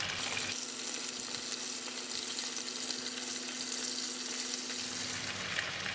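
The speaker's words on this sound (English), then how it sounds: "We just want to cook the beef first because we want to seal the edge of the beef" Beef chunks searing in a pan for stew, a loud continuous sizzle close up with a faint steady hum underneath, no talking.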